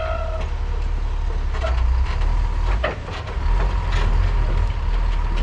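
A crane truck works nearby with a constant heavy low engine rumble, punctuated by clanks, knocks and a few faint high beeps, and no voices.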